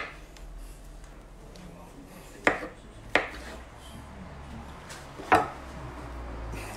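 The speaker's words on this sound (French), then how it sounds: "je suis en train de couper mes champignons" A knife cuts mushrooms on a board, three or four sharp, distinct chops spaced a second or more apart over a faint kitchen background, with no talking.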